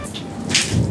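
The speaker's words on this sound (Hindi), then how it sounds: "जो इस टाइम यह बारिश हो रही है, इस टाइम जो ये आसमानी बिजली गिर रही है" Heavy rain in a Haryana thunderstorm with lightning strikes, a loud steady hiss of rainfall with bursts of crackling noise, close and dense.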